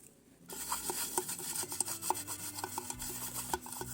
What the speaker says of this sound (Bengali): এবার আমি এই কেক টিনে আমি তেল ব্রাশ করে নেব।